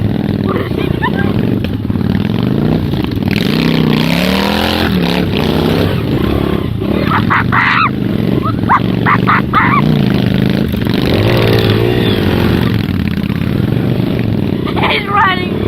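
A dirt bike rides along a wooded trail with its engine droning and revving loudly throughout, while a rider talks excitedly over the motor noise.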